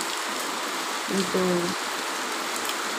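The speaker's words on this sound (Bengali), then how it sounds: "বাইরে কি প্রচণ্ড বৃষ্টি, বিশাল বৃষ্টি হচ্ছে বাইরে।" Heavy rain falls outside as a steady, even hiss of broad noise throughout, with a brief spoken word partway through.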